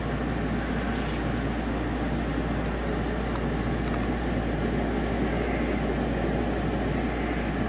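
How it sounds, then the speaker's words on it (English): Inside the Haruka Express train bound for Kyoto, a constant low rumble and hum of the moving carriage fills the space, loud and unbroken throughout. "this is the Haruka Express. On the way to Kyoto."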